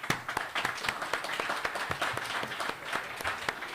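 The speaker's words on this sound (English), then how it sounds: "round of applause is worthy" Applause at a pilot insurance safety livestream event, a modest group clapping at close range with a brisk, uneven rhythm of individual claps that stays fairly quiet throughout.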